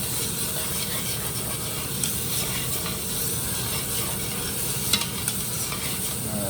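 Minced garlic being stirred in a hot pot for short ribs, a steady sizzle with repeated scraping and light clicks of a utensil against the pot, close and without speech.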